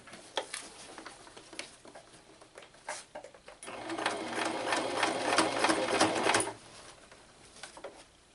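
A sewing machine stitches a D-ring onto a waxed canvas bottle bag: a few short bursts at first, then a steady, loud run of a couple of seconds near the end before it stops, with no talk over it.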